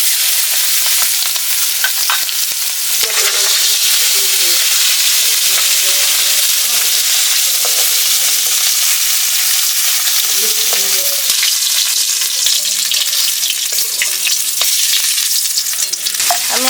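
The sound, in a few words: fish frying in mustard oil in a wok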